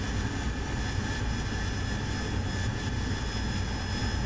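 An AV-8B Harrier jet engine roars in the DCS flight simulator, a loud, continuous and even rush of turbine noise that holds steady without pause.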